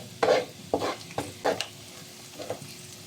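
Garlic sautéing in a pan for adobo, several bursts of stirring and scraping over a low background sizzle, close and fairly loud, no talk.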